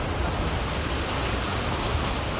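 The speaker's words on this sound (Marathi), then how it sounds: "ना पाऊस दिसतोय" Steady, dense rain pours down continuously during a stormy spell at a house, a loud uniform hiss with no voices.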